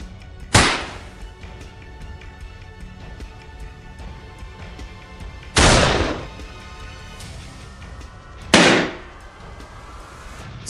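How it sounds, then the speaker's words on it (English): Rifle shots fired while hunting wild hogs in a Texas forest: three sharp, loud reports spaced several seconds apart, each with a quick decaying tail over a steady outdoor background hum. "A short, precise shot."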